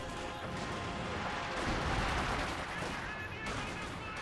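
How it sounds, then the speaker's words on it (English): Distant artillery rounds from a KV-2 tank siege barrage in the Company of Heroes 2 video game, rumbling blasts blended into a continuous wash of battle noise and gunfire. "KV-2 is in fact deployed, firing some rounds over here."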